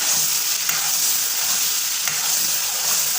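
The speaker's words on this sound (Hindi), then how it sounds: "फुल आंच पे हमने इसकी भुनाई करनी है।" Charsi mutton karahi fries hard on full flame while it is stirred, producing a loud, continuous sizzle with rhythmic scraping strokes of the spoon against the wok.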